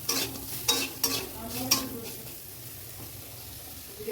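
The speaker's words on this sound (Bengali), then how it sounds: "আলুগুলো তেলে দিয়ে দিলাম ভাজার জন্য। দেখতে পাচ্ছ আলুগুলো ভাজা ভাজা হয়ে এসছে।" Potatoes fry in hot oil with salt, turmeric and black pepper, a steady soft sizzle under several sharp scrapes of stirring in the first half, then the sizzle continues alone.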